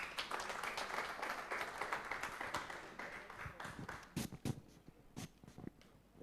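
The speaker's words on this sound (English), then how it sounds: "Let us clap for her." Audience applause after a presentation at a ministerial university visit, a dense wash of many hands clapping that thins out into scattered, separate claps toward the end.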